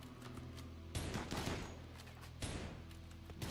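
Gunners in RimWorld trade shots in a game skirmish: two dense bursts of rapid fire, each about a second and a half long, sit over a low steady background hum, with a short quiet gap between them.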